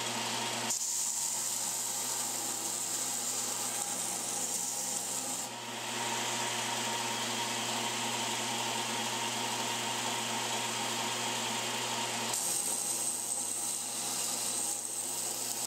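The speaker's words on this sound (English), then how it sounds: "Any material from the ferrule and pommel that protruded from the wooden handle profile is removed first at the" A grinder strips protruding metal from the ferrule and pommel flush with a seax's wooden handle: a steady, continuous abrasive rasp with a constant motor hum, unbroken for the whole stretch.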